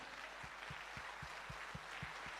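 A seminar audience claps together in a steady, evenly spaced rhythm, each clap a soft thump over a constant background hiss, with no voices.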